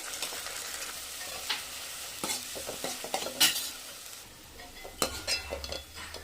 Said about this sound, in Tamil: இப்போ இஞ்சி பூண்டு உழுது போட்டலாம் நல்லா பச்சை வாசம் போகிற அளவுக்கு வதக்கணும்